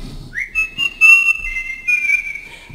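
A person whistles a sustained, high, clear note that slides up and holds, close and loud, with slight wavering and brief breaths between phrases.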